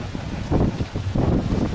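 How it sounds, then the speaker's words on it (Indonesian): Strong wind on Gunung Ungaran buffets the microphone in low, rumbling gusts that swell and surge, loud and close throughout with no voices. "Anginnya makin kencang ini."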